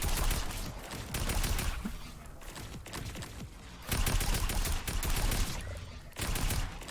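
Sustained assault rifle fire at zombies in a Fortnite warmup rings out as dense, continuous bursts of gunshots that barely pause, loud and steady throughout.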